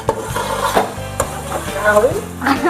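A spoon stirs onions with ginger-garlic paste in a hot pan for biryani, giving close scraping strokes over a low sizzle, loud and continuous, with no talk.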